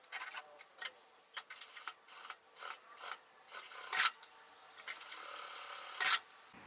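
A sewing machine runs a seam along the edge of a synthetic strap, making a double row of stitching. It gives quiet, close bursts of rasping mechanical ticking that start and stop irregularly, with short pauses between runs.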